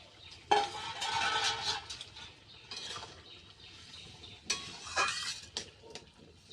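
Prawns go into a simmering pot of sour tamarind curry with taro and eggplant, making soft clinks and splashy clatter in a few faint bursts, close by and otherwise quiet.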